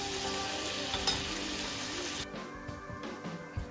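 Paneer fries lightly in hot oil with salt and turmeric for palak paneer, a close bright sizzle that cuts off abruptly partway, leaving quieter clinks and scraping in the pan.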